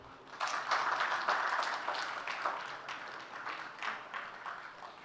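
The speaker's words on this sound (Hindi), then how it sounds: "सत्यम के लिए तालियां" A seated audience at a Hindi youth poetry competition applauds a poet, steady moderate clapping from a crowd heard at a distance for several seconds.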